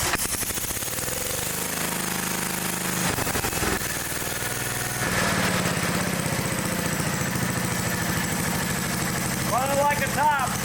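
A small engine idles after a carburetor adjustment, a steady close mechanical running drone that holds throughout, with a brief shift partway through.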